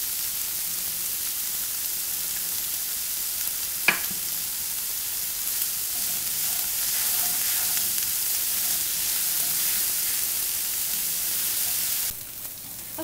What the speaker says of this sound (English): so my onions have been sauteing for a little bit